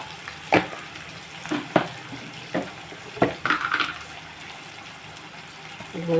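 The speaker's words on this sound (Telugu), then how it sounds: "ఇందులో మనం కొంచెం పసుపు వేసుకుంటే ఇలాగో ఉల్లిపాయ మగ్గుతుంది" Onion cooking with turmeric in a pan, a soft sizzle broken by several scraping stir strokes spaced about a second apart.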